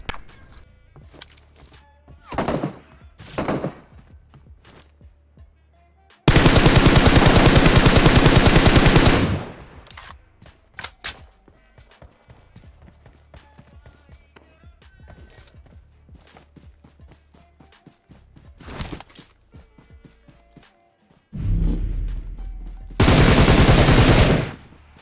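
PUBG Mobile gunfire on the Livik map, with scattered single shots and short bursts and two long, loud sustained automatic volleys, separated by quieter gaps of ambient game sound.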